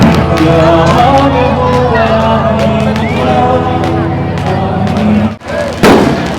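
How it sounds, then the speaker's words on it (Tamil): Fireworks bursting during a Diwali celebration in Africa, a dense continuous barrage of crackling and booming explosions with crowd noise, loud and sustained, briefly dipping near the end before resuming. "வெடி பாக்குறது, வான வேடிக்கை பாக்குறதுக்காக வந்திருக்காங்க இங்க."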